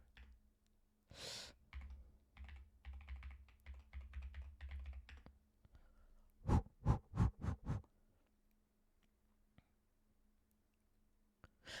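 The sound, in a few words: computer keyboard keys pressed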